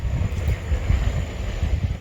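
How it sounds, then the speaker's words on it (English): Steady coastal wind in a Florida state park buffets the microphone in low rumbling gusts, continuous and fairly loud, with no voices. "And it's very windy in this area"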